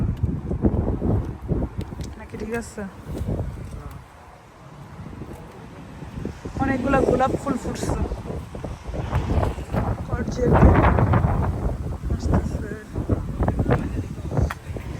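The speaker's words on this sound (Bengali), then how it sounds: "আজকে বাতাসটা একটু বেশি" Strong wind gusting outdoors around a home garden with rose and tomato plants, a loud rumbling buffet across the microphone that swells and eases, while people talk over it.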